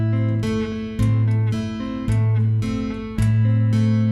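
Chapman Stick, a tapped electric string instrument, plays a brisk two-handed pattern with a repeating bass line under higher melodic notes in a steady, looping rhythm, close and clear with no voices.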